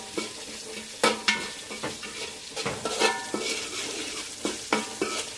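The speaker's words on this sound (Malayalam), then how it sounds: "നമുക്ക് ഈ വെളുത്തുള്ളി ചതച്ച് ഇഞ്ചി ഇങ്ങനെ ചതച്ചതും കൂടെ അങ്ങോട്ട് ഇടുക ഇട്ടൊന്നിളക്കുക" Crushed garlic and ginger sizzle and fry in a pan as they are stirred, with steady close frying hiss and several sharp scraping clatters of the spoon against the pan.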